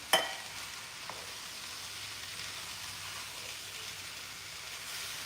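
Chili with beans and canned tomatoes is stirred in a pot, a soft, steady wet churning and faint sizzle with a sharp clink of the utensil at the start and another near the end.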